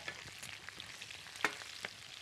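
Peppers and garlic fry in rendered lamb fat for Alexandrian-style liver, giving a soft, steady sizzle with scattered small pops and crackles, one sharper spit standing out midway, heard close with no talking.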